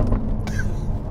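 A 666 hp Lister LFT-C, a modified Jaguar F-Type, gives a deep, throbbing exhaust rumble with a brief sharp crackle or pop partway through, loud and close.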